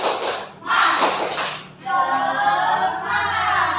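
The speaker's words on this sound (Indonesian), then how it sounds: "Kita tepuk semangat. Tepuk semangat." A primary school class claps a rhythmic cheer in broadband bursts that come close and loud, with a voice and other sounds mixed in partway through.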